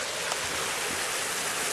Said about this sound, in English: And waterfall here.